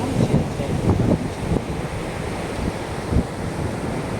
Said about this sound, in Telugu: ఇదిగోండి ఇలాంటి అలలైతే భలే వస్తున్నాయి.